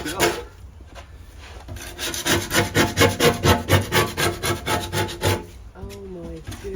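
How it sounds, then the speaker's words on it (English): Paint being scraped off a canal boat hull in a rhythmic run of about a dozen rasping strokes, close and fairly loud, followed by a brief voice. "Scrape it off."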